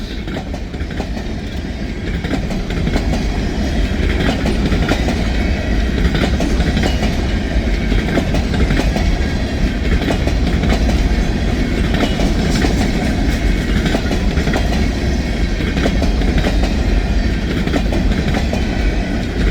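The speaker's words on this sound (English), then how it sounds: "Boxcars." Freight train boxcars roll steadily past on rails close by, a loud continuous rumble with rhythmic clickety-clack of wheels over rail joints and no voices.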